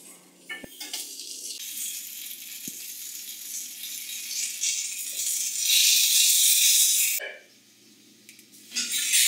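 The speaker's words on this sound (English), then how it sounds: "Fry them until they take on a brownish tinge." Marinated potatoes fry in hot mustard oil in a pan for a Bengali chicken curry, a loud, close, continuous sizzle that swells, cuts off briefly with a few knocks, then returns.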